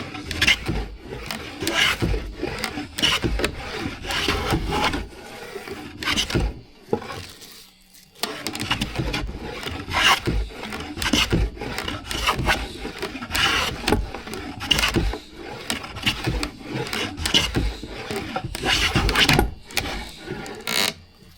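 Transitional hand plane taking shavings off a wooden board, repeated scraping strokes in a steady rhythm, close and fairly loud, with one brief pause midway.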